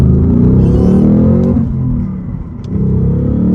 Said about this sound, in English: Check out this glorious 5-liter V8, about half throttle.